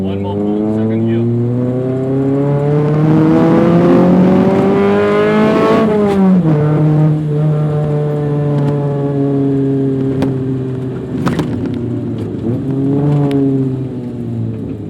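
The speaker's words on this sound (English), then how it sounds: "one more pull, second gear" Proton Satria with a 1.6 4G92 MIVEC engine pulling hard in second gear, its loud engine note climbing steadily, dropping at a shift and rising again, close and strong throughout.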